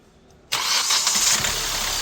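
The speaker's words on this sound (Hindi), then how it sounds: "सेल्फ स्टार्ट गाड़ी हो गई है, देख सकते हो, कोई शोर नहीं कुछ नहीं, गाड़ी बिल्कुल स्मूथली" A Hyundai Creta engine, freshly overhauled and with the air filter removed, cranks and catches abruptly after a moment of near silence, then settles into a loud, steady, smooth idle close by.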